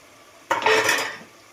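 Spices such as chili powder, coriander powder, garam masala, turmeric and salt are stirred into a stuffed eggplant curry in a pan, a short close burst of scraping spoon-on-metal and light sizzling that fades after about a second.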